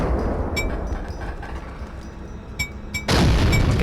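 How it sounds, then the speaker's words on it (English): A thrown grenade in James Bond 007: Agent Under Fire goes off as a sudden loud low boom near the end, over steady rumbling game noise, with faint clicks and thuds before it and no talking. "Where's that grenade land?"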